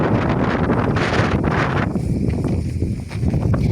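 Strong wind buffets the microphone outdoors at Opočno castle in the Czech Republic, a loud, continuous rushing roar that eases only briefly partway through.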